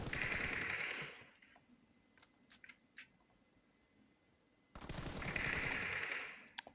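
Gunfire in PUBG Mobile on the Livik map: two sustained loud automatic bursts at the start and end, separated by a quieter stretch with a few sharp isolated shots.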